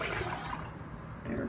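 Liquid pours into canning jars of chickpeas, a close splashing gurgle that thins and steadies as the jars fill, in a short burst.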